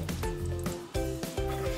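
Pork belly simmers in coconut water in a pot for Vietnamese caramelized pork with eggs, giving a steady close bubbling sizzle with repeated soft clunks and stirring knocks.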